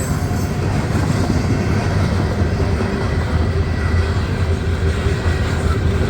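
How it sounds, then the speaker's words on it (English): A fast CSX coal train led by a GEVO locomotive passes through Woodbine, a loud, close, steady rumble of rolling cars and wheels that holds without a break, with no voices. "Coal train."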